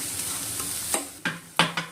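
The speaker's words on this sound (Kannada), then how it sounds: "ಗ್ಯಾಸ್ ಆಫ್ ಮಾಡಾದ್ಮೇಲೆ ಅರಿಶಿನ ಸೇರಿಸ್ಕೊಂಡು ಮಿಕ್ಸ್ ಮಾಡ್ಕೊಳ್ತಾ ಇರೋದು" A spoon scrapes and stirs through cooked bamboo shoot stir-fry as turmeric is mixed in off the heat, with several sharp scraping strokes over a soft residual sizzle, close and alone.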